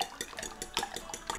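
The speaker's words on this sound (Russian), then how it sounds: "И теперь взбиваю." Eggs beaten with a little salt and a teaspoon of vegetable oil in a bowl, a quick series of close clinking, scraping strokes against the bowl in an uneven rhythm.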